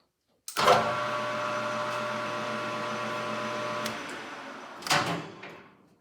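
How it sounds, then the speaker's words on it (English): A lathe runs steadily with a harmonic machine whine while a file nicks a swollen Edison pot-metal reproducer, starting abruptly, holding a constant drone for about three seconds, then stopping, followed by a brief clatter near the end. "when the lathe's running, you'll just give it a little nick like that. I'll do one right now."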